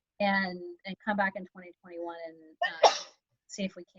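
A single sharp sneeze bursts out around the three-second mark in a committee meeting, cutting briefly through steady conversational speech that continues before and after it.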